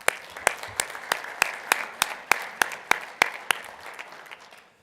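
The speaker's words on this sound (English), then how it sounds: "So another round of applause." An audience at a general session claps in a short round of applause, with rhythmic, fairly synchronized claps that fade out toward the end.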